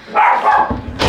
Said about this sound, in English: I'm sorry if you can hear my dogs bark, they're just going a little crazy right now.